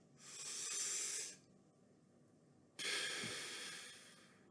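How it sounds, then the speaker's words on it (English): A big inhale pulled through flat lips for a flute breathing drill gives a steady, close airy hiss, followed by a quiet gap and a second equally strong hissing breath, with no talking. "Big balloon breath, one more time."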